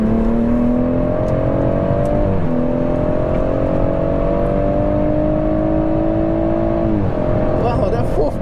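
A BMW M140i accelerates hard through fourth gear, a loud, close engine note climbing steadily in pitch, dropping at a shift partway through, then climbing again before another shift near the end, heard from inside the car.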